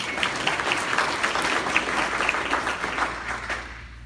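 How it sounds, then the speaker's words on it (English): An audience at a prophecy lecture bursts into applause, a full round of clapping that holds steady and then tapers off toward the end. "Can I get another round of applause?"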